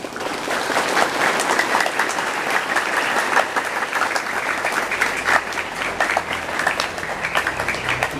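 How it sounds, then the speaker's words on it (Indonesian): An indoor audience at a religious talk breaks into sustained applause, dense and even clapping from many hands that carries steadily for several seconds. "Kita beri aplaus bagi para beliau"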